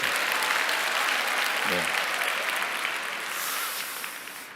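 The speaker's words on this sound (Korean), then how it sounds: "박수 한 번만 더 주십시오." Audience applause fills a hall at a Korean corporate presentation, a dense, steady clapping that runs loud throughout and slowly thins toward the end, with a brief spoken word near the middle.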